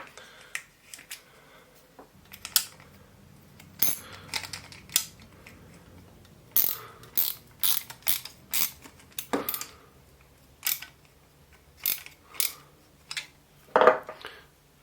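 A nut is screwed back onto a homemade pointing mortar gun for repointing brickwork, giving quiet, close, irregular metallic clicks and scrapes scattered across a near-silent background.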